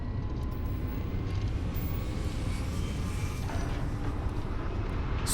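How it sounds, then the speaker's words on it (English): A spaceship's grav drive in Starfield spools up as a steady, loud, broadband rumble with a dense low roar, holding evenly throughout with no voices. "Spooling drive."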